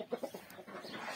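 Hens cluck in a poultry yard where geese are also kept, a few short close clucks at the start followed by softer fowl chatter and shuffling at low volume.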